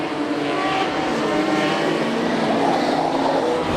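Modified production race cars roar past continuously at Charlton Raceway during a night championship race, engines loud and sustained with a steady high-revving drone and no pauses.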